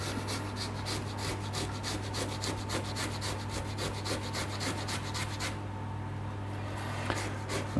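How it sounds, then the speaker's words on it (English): Food is grated on a metal hand grater in a Thai home kitchen, giving a steady run of rhythmic rasping strokes, close and fairly loud, over a constant low hum, with no talk. "It's just that I like this grater here,"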